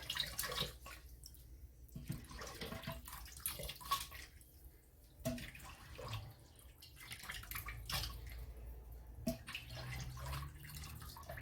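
Beef broth poured into a pan over onions, garlic, jalapenos and tomatoes for Mexican vegetable beef soup, a soft splashing, trickling pour in several bursts, quiet and close.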